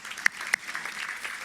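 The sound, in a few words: church congregation applauding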